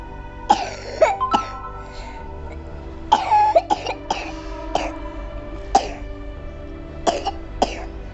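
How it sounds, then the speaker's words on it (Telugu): Sick children coughing at home in a run of short, harsh bursts, some doubled or tripled, with throat clearing between them, close and loud against quiet. "దగ్గు దగ్గు వస్తుంది"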